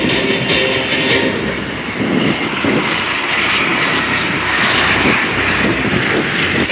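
A T-38 Talon jet trainer roars past at an air show, a loud, sustained broadband jet rush that swells and holds with no talk.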